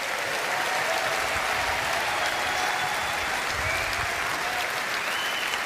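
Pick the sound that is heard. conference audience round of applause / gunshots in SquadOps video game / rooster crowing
conference audience round of applause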